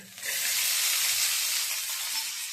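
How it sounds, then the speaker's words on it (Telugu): Dried red and green chilies fry in a pan with a steady, close, broadband sizzle that holds for a couple of seconds with no talk. "ఇదిగోండి, ఎండుమిరపకాయలు, పచ్చిమిరపకాయలు వేస్తున్నానండి. ఇవి దోరగా వేయించుకుందామండి."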